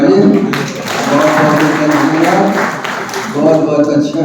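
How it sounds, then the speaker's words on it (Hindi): Audience clapping for an honoured member at a Constitution Day gathering, a steady broadband wash of applause with voices murmuring underneath throughout. "आज इनकी ताली बजाइए।"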